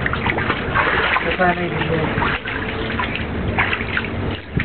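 Water sloshes and splashes continuously in a warm bath, with trickles and drips close by under people talking.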